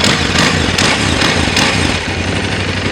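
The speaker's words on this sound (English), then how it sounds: "Let's rev it up a little." A 2011 KTM 990 Adventure Dakar Edition motorcycle engine runs loud and close for about three seconds, with a dense, steady roar and a few brief swells as it is revved.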